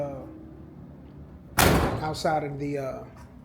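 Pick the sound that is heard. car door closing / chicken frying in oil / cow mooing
car door closing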